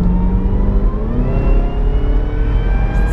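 Cadillac CTS-V wagon with 556 hp and an automatic transmission accelerating hard, a loud, rising engine roar heard from inside the car, with pitch climbing steadily through the run.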